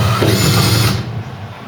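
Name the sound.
drill re-drilling through metal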